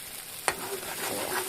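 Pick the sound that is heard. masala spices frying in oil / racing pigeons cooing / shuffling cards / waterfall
masala spices frying in oil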